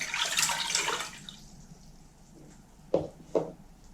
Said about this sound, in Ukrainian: 1 літр води холодний з-під крана.